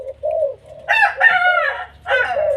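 A rooster crows loudly and close by in a long, rising and falling call, with lower clucking before and after it.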